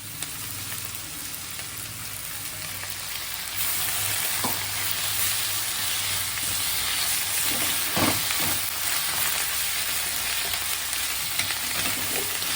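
Drumstick leaves and onion fry in a pan, giving a steady, loud sizzle throughout with a few brief stirring scrapes and clinks, no talking.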